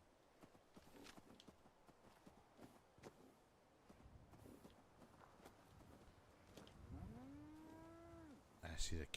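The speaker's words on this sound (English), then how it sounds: "I see the cows." Cattle in the Fallout 4 video game low with a few drawn-out moos near the end, rising and falling in pitch over a busy background of footsteps and game ambience, with no talk over them.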